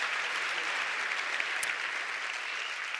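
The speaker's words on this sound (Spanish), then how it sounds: "Fuerte el aplauso, Chalo Berobat." An audience applauds at a sports awards ceremony, a steady wash of many hands clapping at once, moderately distant and sustained without a break.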